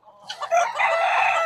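Bantam chickens on a farm cluck excitedly while a rooster crows loudly and close by, a dense, continuous burst of fowl calls with no talking.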